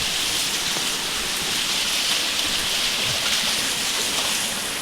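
Heavy rain pours down in Medak district, a dense, loud, unbroken roar of falling water close by with no voices.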